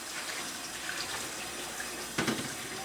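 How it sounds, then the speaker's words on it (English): Water from a tap runs into a non-stick pan holding leftover rice during dishwashing, a steady faint hiss with a brief louder splash near the end. "I'm just going to run some water in it to get the rice out"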